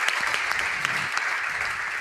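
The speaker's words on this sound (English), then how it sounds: "The crowd goes wild yet again." A live crowd at a Clash of Clans esports event, Red Balloons versus Blue Dragons, claps and cheers in a dense, continuous burst of applause that holds steady for a couple of seconds.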